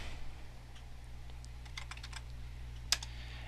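Computer keyboard typing a command: a short, soft cluster of key taps, sparse at first and then quicker, with one sharper click near the end over a low background hum, and no talking.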